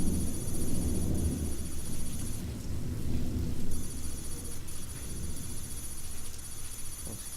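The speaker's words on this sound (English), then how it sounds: "probably just the thunder." Thunder in the video game Signal Simulator, a steady low rumbling roar with rain-like hiss that lasts the whole stretch, loud and continuous beneath a faint high electronic whine, with no talking.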